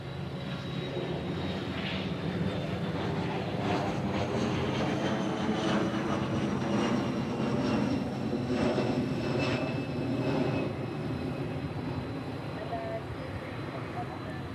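F-22 fighter jets departing Honolulu airport, a broad loud roar of jet engines that swells and holds across the span while spectators talk over it.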